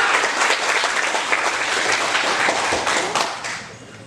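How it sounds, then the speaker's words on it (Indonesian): A crowd at a GMNI anniversary gathering in Nias Selatan breaks into dense, sustained applause, many hands clapping loudly and evenly before tapering slightly toward the end. "Tepuk tangan dulu buat GMI ini."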